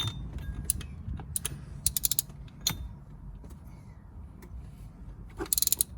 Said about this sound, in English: Put the wrench in on this side and get it to rest against those pulleys